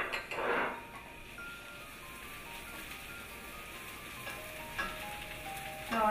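Minced garlic and chopped scallions sizzle steadily in a pan over low heat while fish soup is being made, with a close, continuous frying hiss and a few soft clinks.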